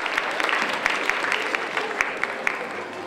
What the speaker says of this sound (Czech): Pojďme zatleskat